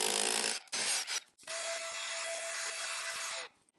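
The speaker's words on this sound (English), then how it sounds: "I have my rotary hammer here. I have a 7/16 inch drill bit in it" Rotary hammer fitted with a 7/16 inch masonry bit boring holes in mortar, giving two short grinding bursts and then a steady rasping drill run of about two seconds, close and fairly quiet, with no talking.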